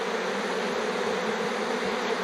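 Honeybees from a bee tree swarm on a cut trunk section, a dense continuous buzz close by with no talk.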